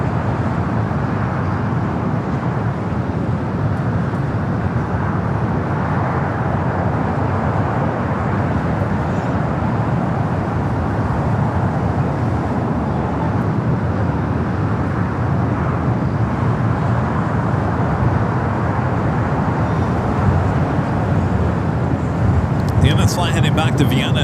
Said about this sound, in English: Flight heading back to Vienna in this 777 at 200ER, taking off there on the north side, 24 left.